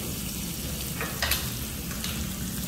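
Abalone sizzles on a grill at a Korean barbecue meal with beef on a rainy day, a steady crackling fry with a few brief louder pops, close and continuous with no talk.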